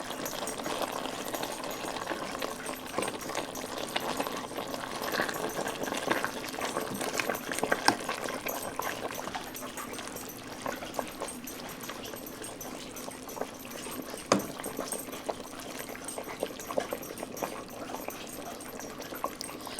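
Collard greens and meat cooking in a pot, a steady bubbling, crackling simmer that runs evenly throughout with occasional small pops and no talking.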